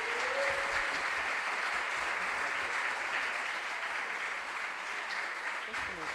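Audience at a regional junior science and maths quiz competition applauding: a continuous wash of many hands clapping, broad and even throughout, steady and moderately loud with no break.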